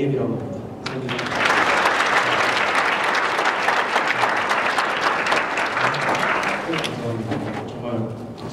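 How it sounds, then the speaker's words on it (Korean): Festival audience at the 2017 JOY Festival breaking into applause for a new-age pianist, a loud, sustained wash of many hands clapping that swells in and tapers off near the end, with no talk over it. "정말 박수 소리가 정말 기분 좋네요."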